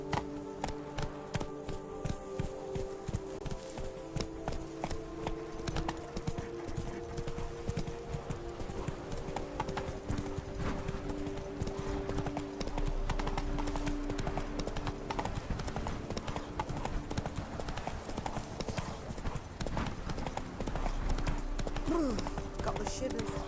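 Roach the horse clip-clops along in The Witcher 3 with a fast, steady run of hoof beats that lasts throughout, while a voice speaks now and then over the gallop and game music.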